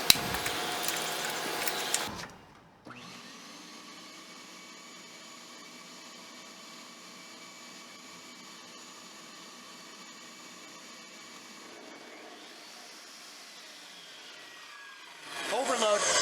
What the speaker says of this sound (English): Just turning the machine on, the IQ saw on with the shop vac running on the Ego